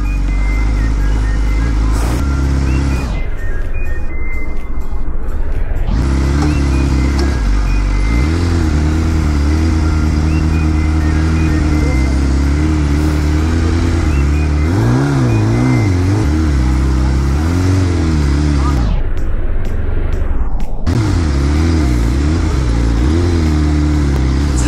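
A BMW S1000 RR motorcycle revs loudly on a street in Sakchi, Jamshedpur, its close, roaring engine rising and falling through repeated throttle blips over a steady idle.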